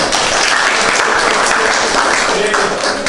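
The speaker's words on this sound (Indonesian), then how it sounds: "tepuk tangan dulu temennya" Classmates in a school classroom break into applause, a steady, loud wash of clapping from many hands that fills the whole stretch without pause.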